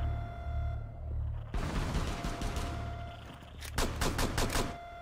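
Gunfire in the tactical shooter Rainbow Six Siege, a loud burst of shots erupting then a quick rapid volley of crisp reports near the end over steady background hum.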